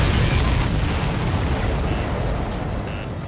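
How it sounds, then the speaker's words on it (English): A loud, sustained explosion rumble from an enemy aircraft shot down in the air-combat game Ace Combat 7, a dense low boom that holds for several seconds with slight fading and no talk. "Did you see that explosion? Looks like that's one of them down."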